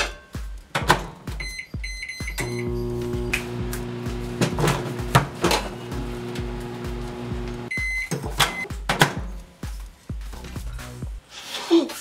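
A microwave oven heating a Hot Pocket hums steadily, with sharp clicks and clatter around it and a few high beeps near the end.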